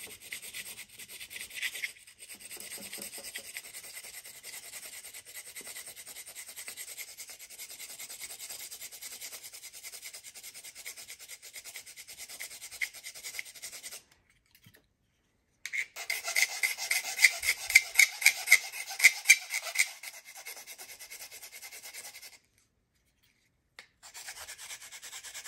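A hand file rasps against the blade of a Spyderco Shaman folding knife in repeated back-and-forth strokes, close and steady, with a brief pause and then a louder, more vigorous burst of filing.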